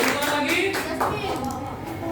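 A classroom of students claps briefly for a classmate during a lesson, a short patter of hands heard beneath overlapping voices.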